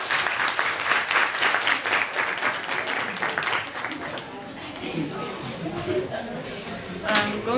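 A classroom of students clapping for a classmate coming forward to present, brisk and close for about four seconds, then fading as a teacher's voice takes over.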